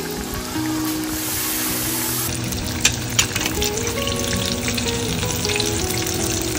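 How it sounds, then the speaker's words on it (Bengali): Khaja pastries fry in oil in a small wok, a loud steady sizzle with a few sharp crackles and pops partway through, no talking. "এইবার আস্তে আস্তে করে তেলে ভেজে নেব"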